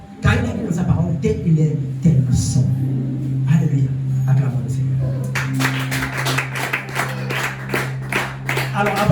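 A church congregation breaks into clapping and acclamation after a call to praise, with dense clapping building over sustained organ or keyboard tones and voices, growing louder and fuller toward the end.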